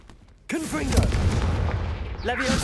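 A Confringo blasting spell goes off in Hogwarts Legacy, a sudden loud burst with a crackling fiery tail that carries on for a couple of seconds, followed by a second magical flourish near the end.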